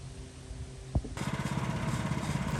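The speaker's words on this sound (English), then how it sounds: "I'm gonna lower it down 1/4 inch, and I'm gonna make a cut through this" A sawmill saw head cuts through a log, lowered a quarter inch to make lap siding, and the motor rises into a steady rhythmic pulsing drone after a brief thump, moderately distant and fairly quiet.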